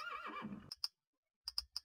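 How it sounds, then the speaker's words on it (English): A blocky Minecraft horse from the Mo'Creatures mod gives a short, close whinny, followed by a few sharp clicking hoof or game sounds, with no voices. "And it's not letting me back on my horse."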